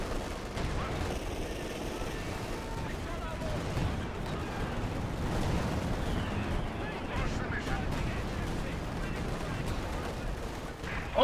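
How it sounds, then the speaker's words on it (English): Assault artillery fire in Company of Heroes 2 keeps up a dense, continuous battlefield rumble with repeated booms and crackling shots at moderate loudness. "that's some good old assault artillery"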